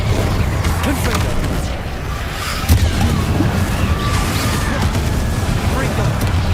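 A Confringo fire spell blasts in Hogwarts Legacy, a booming, crackling burst over a rumbling layer of game sound, with a sharp impact partway through and loud, dense combat noise throughout.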